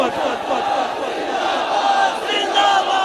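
Crowd at an Islamic religious gathering chanting a slogan in unison, a dense, sustained roar of many voices that stays loud and steady throughout.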